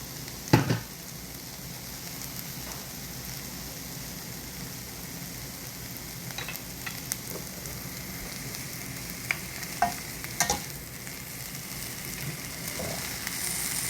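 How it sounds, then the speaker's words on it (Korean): Potatoes stir-fry for a dried pollack and potato soup, a soft continuous sizzle with a few sharp clicks and scrapes of a utensil in the pan, quiet and close with no talking. "감자도 넣고 감자랑 이렇게 달달달달달 볶아가요"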